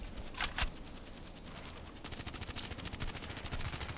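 A player's gun in a video game fires: two loud single shots, then a rapid, steady burst of automatic fire, close and crisp with no talk over it.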